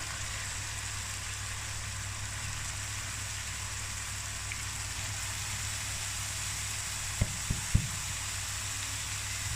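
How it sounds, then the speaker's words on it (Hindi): One kilo of finely chopped spinach hits hot frying masala for dal palak, giving a steady, even sizzle throughout with a few soft knocks near the end and no voices. "अब इसके अंदर डालेंगे हम बारीक कटी हुई 1 किलो पालक।"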